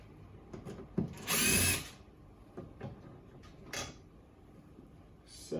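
A power drill backs out a door panel screw on a 2018 Lexus ES 350, a loud whirring burst of about a second amid clicks, creaks and handling noises from the door trim.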